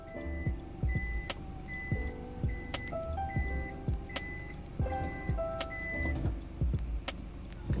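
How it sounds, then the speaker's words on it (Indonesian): The electric power back door of a 2011 Toyota Alphard 2.4S closes on its own, a repeating series of bright warning beeps sounding in a regular rhythm over a low motor hum, with a few soft clunks from the door mechanism. "Sekarang saya pencet dan dia akan menutup secara elektris."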